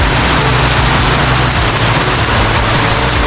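Steady, loud rain pours down without pause, a dense hiss drumming on surfaces throughout.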